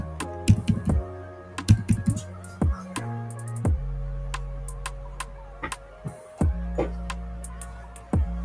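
Someone types on a computer keyboard while entering a spreadsheet formula, with sparse, irregular keystrokes and short bursts of clicks close up over a low, steady background hum.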